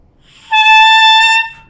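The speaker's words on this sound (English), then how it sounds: "So making a sound on the mouthpiece may be a little challenging at first" A single sustained, buzzy tone blown on a saxophone mouthpiece alone, bright and close, lasting about a second after a short quiet start.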